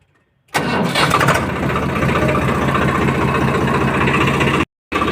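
A Swaraj 855 tractor engine fitted with a new silencer starts up abruptly and then chugs steadily at idle, loud and close, before cutting out briefly near the end.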